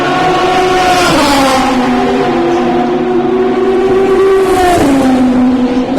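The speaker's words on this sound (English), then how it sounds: "That was the Dome Judd, that last one going by" A Dome Judd race car roars past at close range on a racing circuit, its loud engine note holding steady and then dropping in pitch as it goes by, with no one talking.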